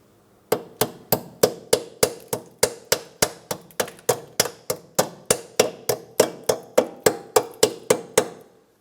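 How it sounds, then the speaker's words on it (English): A small hammer taps steadily on a metal clip on a 2004-2008 Pontiac Grand Prix front brake hose, about thirty sharp, evenly spaced clinks in a row, close and fairly loud, with no talking. "you could use a small hammer and tap it into position"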